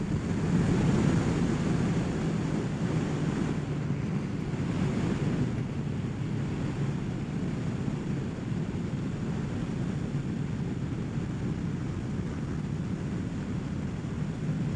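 Steady, loud wind roars across a microphone mounted on a Kawasaki Ninja 1000SX motorcycle during a ride, a continuous low rumble that never lets up for the whole stretch.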